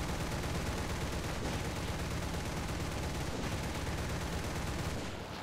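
Dense, sustained gunfire from the War Thunder tank battle game, with rapid overlapping shots and booms forming a continuous loud roar that fades slightly at the end.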